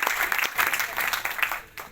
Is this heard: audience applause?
yes